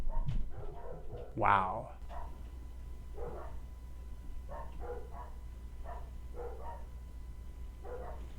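Dogs at a doggy daycare in a house bark in a short burst near the start, then quieter yips and barks continue intermittently in the background while a person talks nearby.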